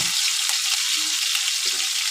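Green chillies go into hot oil with cumin seeds and fry, a soft, continuous sizzle with a few brief clicks and stirring sounds, close by and with no talk.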